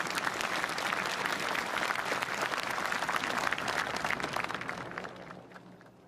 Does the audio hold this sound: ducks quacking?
no